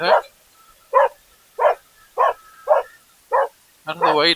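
A dog barks repeatedly near a historic ruins site in Histria, six sharp evenly spaced barks followed by a longer, harsher growling bark at the end, loud and close.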